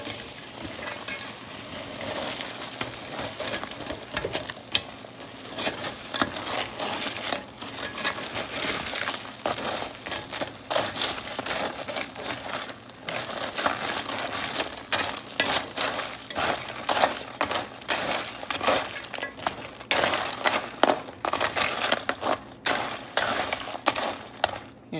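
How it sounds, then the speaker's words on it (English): A spoon stirs sugar in a pan for homemade caramel icing, giving a long run of continuous scraping and grinding crunches with a rapid, uneven rhythm, close and fairly loud with no talking. "you just want to keep stirring until your sugar has completely dissolved"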